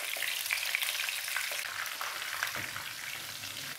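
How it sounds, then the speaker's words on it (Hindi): Masala-stuffed eggplants, Hyderabadi bagara baingan style, frying in hot oil give a loud, continuous close-up sizzle and crackle that holds steady throughout, with no voices. "ऑयल गर्म हो गया तो अब मैं इसमें मसाला भरे बैंगन जो हैं वो इसमें मैं डाल रही हूँ।"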